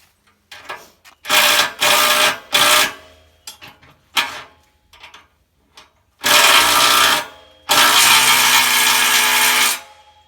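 An impact wrench driving bolts on a WoodMizer sawmill bed extension, several loud, close bursts of a few seconds each separated by clanks of handling and short pauses.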